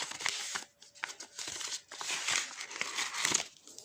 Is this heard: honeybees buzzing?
no